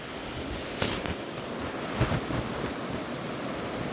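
Fast-flowing clear water of the Moya River running over gravel bars, a steady broadband rush close to the microphone with light wind buffeting.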